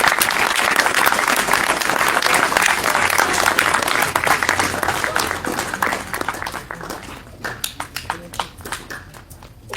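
A large crowd claps loudly and steadily to welcome the head coach at a cricket academy gathering, then the applause thins into scattered, fading claps.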